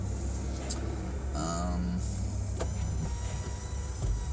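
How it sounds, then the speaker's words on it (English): Road noise rumbles steadily in the background as vehicles pass, with a brief whining motor and a few distant clicks over the low hum. "this is kind of a busy road I'm on here, so it's going to be some background noise"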